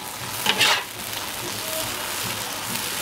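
Shredded potatoes and chili are stir-fried in a wok with a little oil, making a constant bright sizzle, with a louder scraping toss near the start.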